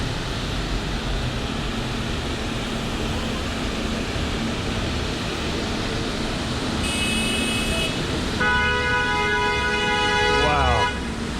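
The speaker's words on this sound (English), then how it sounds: "Everybody's honking." Car horns honk in New York City traffic near a bike lane, several sustained tones overlapping near the end, over steady road noise and a passing vehicle; someone talks at times.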